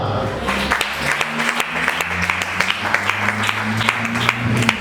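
A church congregation claps and applauds in a sustained burst of dense, steady clapping, with music or singing voices carrying underneath.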